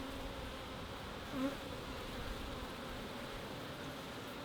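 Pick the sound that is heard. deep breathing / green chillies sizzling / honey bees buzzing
honey bees buzzing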